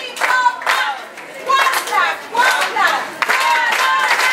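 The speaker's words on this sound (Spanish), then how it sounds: "Ahí está la porra sonando, claro que sí." A crowd cheers and claps rhythmically in bursts, chanting together at the opening of a small solidarity market in Cuautla, Morelos. The voices sit close and loud with no separate speaker.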